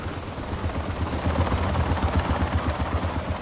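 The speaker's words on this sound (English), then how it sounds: "Also known as a helicopter." Helicopter in the Dark Sector video game, a steady loud rotor thumping with rapid low pulses running throughout, mixed with dense game noise.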